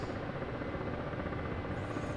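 A Black Shark attack helicopter flying over a base in the DCS simulator, a steady, fairly quiet droning rotor and engine hum, even and unbroken for a couple of seconds with no talk.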